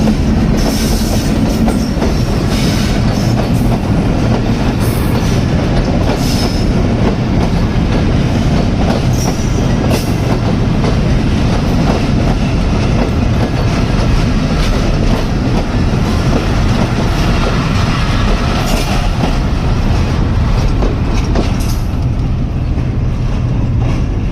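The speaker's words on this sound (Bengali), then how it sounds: "এখন ট্রেনের শব্দ শুনতেছে হয়তোবা ট্রেন আসতেছে" A train rolls past close by on the Benapole–Jessore line through rice fields, a loud continuous rumble with rhythmic clacking of wheels on rails and occasional squeals, no voices.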